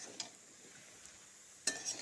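Ridge gourd and potato being stirred in a pan, with a faint sizzle and a few soft scraping strokes of a spoon, quiet and close, one sharper scrape near the end.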